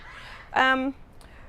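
A blue-billed curassow hen guarding her chick gives a single short, harmonic, honking call, loud and close, with faint background otherwise.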